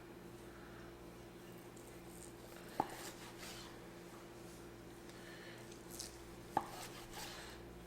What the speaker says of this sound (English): It's like slicing really nice and tender, guys.